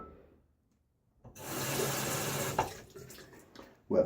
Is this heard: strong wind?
no